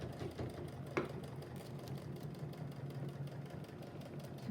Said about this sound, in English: we're going to just sew that in place with the machine